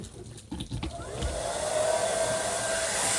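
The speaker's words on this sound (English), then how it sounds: "I'm gonna blow dry it." Hair dryer blowing on a kinky straight wig, starting with brief handling noises before the motor whooshes up to a steady, close, loud airflow hum that holds to the end.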